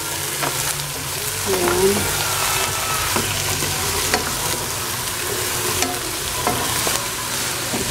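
Whole squid sizzles and fries steadily in a hot pan, a dense crackling hiss running throughout with occasional stirring clinks, and a voice briefly speaking over it.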